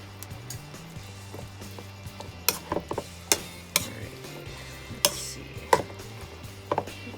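Strips of basil stirred into chopped tomatoes for bruschetta, heard as soft scraping and mixing with a series of sharp clicks and taps of a utensil against the bowl at an irregular pace.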